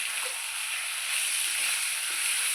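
Chicken mince and chickpea masala sizzles steadily in hot oil, a dense, continuous frying hiss with faint stirring scrapes, close and alone without voices.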